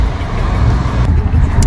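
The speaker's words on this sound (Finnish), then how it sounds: "Tuolla tulee autoja." Cars pass along a busy main street in Turkey, producing a loud, steady, close roar of engines and tyres that continues throughout without a break.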